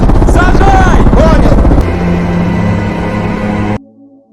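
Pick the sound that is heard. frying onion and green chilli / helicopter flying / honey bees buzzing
helicopter flying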